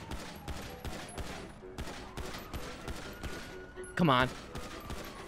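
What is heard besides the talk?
gunshots in the video game GTA 5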